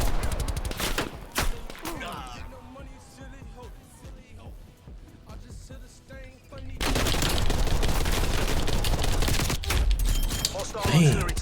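Artillery and gunfire in a video game, with bursts and booms that thicken into a sustained loud barrage in the second half, under a voice calling out targets.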